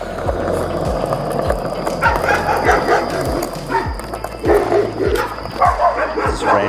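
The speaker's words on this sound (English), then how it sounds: "at this little dog." A small dog yaps outdoors during a peaceful walk on Hawaii's Big Island, with short bursts of barking and whimpering over steady rolling skateboard wheel noise and occasional voices.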